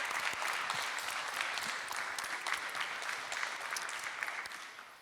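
Conference audience applause, a steady patter of many hands clapping at moderate distance, fairly soft overall and tapering slightly toward the end, with no voices over it.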